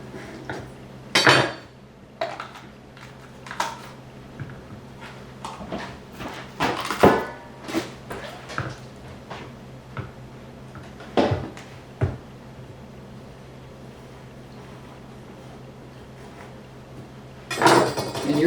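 A knife chops yellow peppers on a cutting board in a home kitchen, giving irregular sharp taps and clacks in short bursts with pauses, plus a louder clatter at the end.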